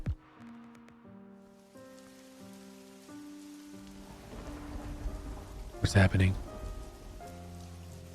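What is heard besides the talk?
rain falling in Merry's Seven Wishes video game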